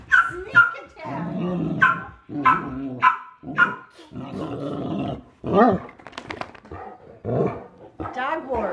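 A Great Dane and miniature dachshunds playfighting indoors, with a rapid run of loud, close barks, growls and yips in uneven bursts, and people talking and laughing between them.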